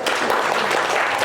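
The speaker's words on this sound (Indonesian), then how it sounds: "tepuk tangan dulu dong buat Yuda" A short burst of audience applause, dense and steady clapping from a room of people at a career management talk, filling the whole brief moment.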